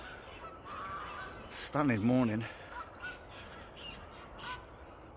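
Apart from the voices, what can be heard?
geese honking at dawn by a lake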